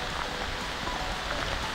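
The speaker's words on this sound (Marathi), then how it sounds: "थोड्या वेळापूर्वी इतकं सुंदर वातावरण आणि लगेच पाऊस सुरुवात झाली।" Rain starts falling on Prabalgad Fort, a steady hiss of drops pattering on surfaces, even and continuous, with no voices.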